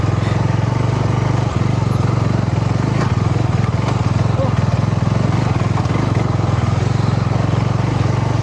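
A motorcycle engine labours loudly and continuously up a rocky off-road hill trail on the way to a hidden peak in Karnataka, a close, steady drone with no break.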